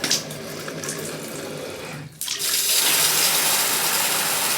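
Steady running water from a shower, loud and continuous, with a brief drop around two seconds before the flow resumes at full force.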